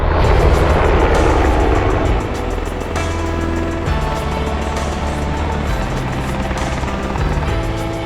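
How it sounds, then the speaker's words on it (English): A helicopter approaches a backcountry base camp in the mountains carrying two riders, its loud, steady rotor thump and engine roar filling the air close by throughout. "I got heli inbound"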